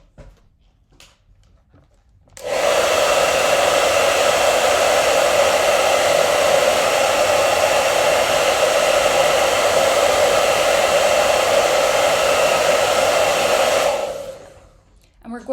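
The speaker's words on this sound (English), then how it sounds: "I'm just going to use a hairdryer to simplify that." A hairdryer blows steadily on a drying watercolour portrait, a loud constant whoosh switching on after a quiet moment and running unbroken for about twelve seconds before cutting off and winding down.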